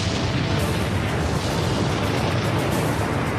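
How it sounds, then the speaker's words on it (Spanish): Volcanic eruption of Vesuvius as a massive, continuous explosive roar, loud and rumbling heavily in the lows with no distinct individual blasts. "Luego el Vesubio erupcionó."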